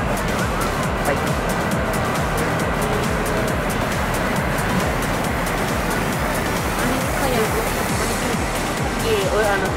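Waves breaking on the shore at Patong Beach, Phuket, a continuous loud wash of surf rolling in without pause, with people talking over it.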